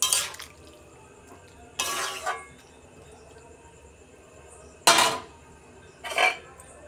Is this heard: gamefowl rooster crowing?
no